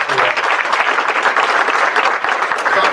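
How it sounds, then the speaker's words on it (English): Room full of conference attendees gives a steady round of applause, dense continuous clapping at even loudness for a few seconds. "We want to give the media a round of applause."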